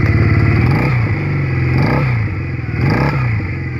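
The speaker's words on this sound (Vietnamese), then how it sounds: "Em nghe tiếng máy không, nổ rất là hầm hầm luôn." A REBEL RB170G motorcycle engine runs close by, its loud, steady idle rising into three rhythmic revs that swell and fall about a second apart, with no talking.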